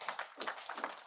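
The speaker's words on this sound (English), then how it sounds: "Maybe we can give him another round of applause" A brief burst of clapping from a small group at a football association annual general meeting in a hotel, scattered quick claps that stay fairly soft and close.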